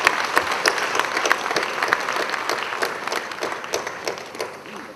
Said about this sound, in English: Let's give a big round of applause for Maybank.